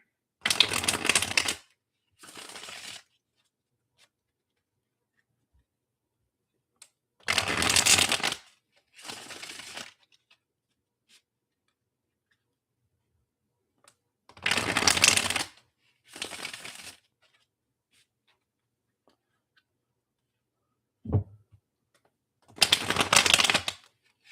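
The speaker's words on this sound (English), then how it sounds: "So let me do some shuffling there." Tarot cards are shuffled in several separate bursts, each a rapid riffling flutter, with long quiet pauses between them. A single soft thump sounds near the end.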